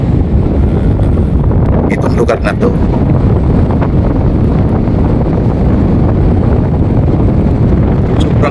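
Strong wind on Tinawagan Hills buffets the microphone in a loud, constant roar with low rumbling gusts throughout, a voice speaking briefly under it.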